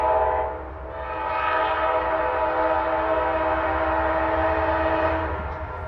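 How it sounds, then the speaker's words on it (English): A priority intermodal freight train rolls past in Deshler, Ohio, with a steady low rumble and clatter, a sustained horn blast sounding over it. "It's a priority intermodal train with an ID of QO10."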